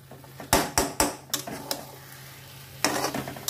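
Grated taro and grated coconut stirred in a pan, with sharp spoon scrapes and clinks against the metal in bursts, a faint sizzle and a low steady hum underneath, close by and with no talking.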